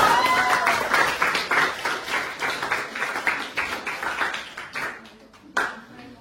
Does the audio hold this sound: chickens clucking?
no